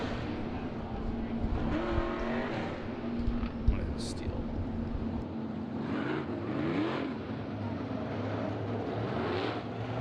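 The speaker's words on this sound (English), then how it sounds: "And now we've got the stock cars out here." Stock cars race around a speedway track, engines roaring and droning as they pass at varying distance, with a steady mechanical rumble and an announcer talking over the noise.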